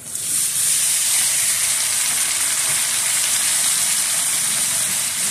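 Shrimp with chopped onion and radish fry in a pan for a Bengali radish stir-fry, a loud, close, steady hissing sizzle that starts abruptly and holds evenly throughout.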